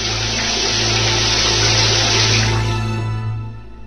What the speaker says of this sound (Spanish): se miraba los pies salpicados de las gotas que caían desde esa canilla necesitada de un cambio de cuerito